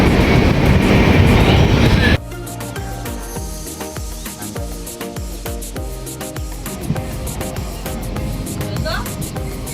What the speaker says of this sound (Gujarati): અમારી ગાડી બોટાદથી નીકળી ગઈ છે